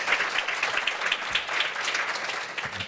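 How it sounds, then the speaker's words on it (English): Steady applause from an audience greeting guests at a reproductive rights policy panel convening, a dense, even wash of clapping that holds at moderate volume for the whole stretch. "So please, a round of applause for our guests."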